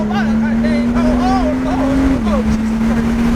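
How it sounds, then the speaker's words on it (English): A tuned car, a 135i or G37, holds a steady revving drone for a fake launch control, the pitch dipping briefly partway through, loud and close, with voices and some background noise over it. "So this is the fake launch control I was telling you about."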